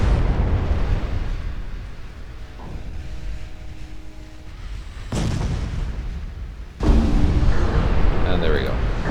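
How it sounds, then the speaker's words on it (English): A torpedo detonates in the naval battle game Ultimate Admiral Dreadnoughts, with a heavy booming blast at about five seconds and another loud explosive burst near seven seconds, standing out over a constant low rumble of battle noise. "Torpedo detonation, hopefully before they got launched."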